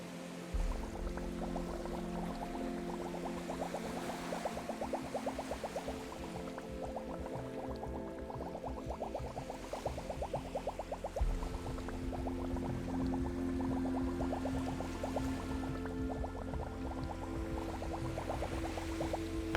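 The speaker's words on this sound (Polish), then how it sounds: "Niedaleko znajduje się także siarkowe kąpielisko błotne." A sulphur mud bath on the Aeolian Islands bubbles and gurgles steadily, a dense, continuous liquid burble with a low rumble underneath, close and unbroken, with no voices.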